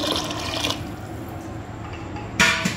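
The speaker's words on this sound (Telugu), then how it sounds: "ఒక 2 గ్లాస్ వాటర్ అయితే యాడ్ చేసుకుంటున్నాను" Water, about two glasses, is poured into a pot of fish curry, giving a continuous gurgling splash that swells again near the end, close and fairly loud.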